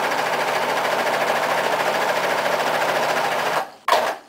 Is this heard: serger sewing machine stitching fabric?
yes